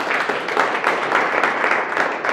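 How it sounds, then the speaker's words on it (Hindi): A crowd of audience members applauds for an honoured guest at a community team gathering, a steady, dense wash of clapping sustained from start to finish without pause. "मैं चाहूँगा छाबड़ा साहब के लिए एक जोरदार तालियाँ।"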